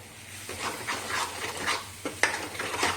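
Spice masala for chole frying in a kadhai with homemade butter, a soft continuous sizzle broken by repeated spoon scrapes and stirring knocks, close and fairly quiet, no voices.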